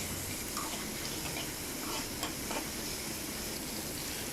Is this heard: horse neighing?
no